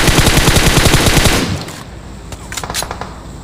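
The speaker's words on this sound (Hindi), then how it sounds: "भाई दो बंदे सामने से फायरिंग दे रहे हैं।" Gunfire in the BGMI battle royale game: a loud, rapid burst of machine-gun fire, followed by scattered, fainter shots.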